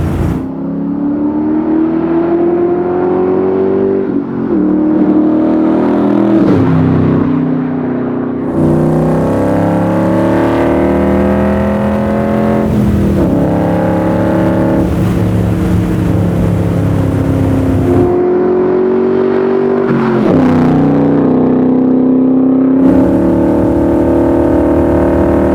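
A Gen 3 Coyote V8-powered Shelby Cobra R roars through hard acceleration, its loud engine pitch climbing repeatedly and dropping at each gear shift over a long, sustained run.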